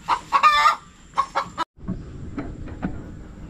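A chicken clucks nearby in a few quick bursts of loud, nasal calls, then background noise.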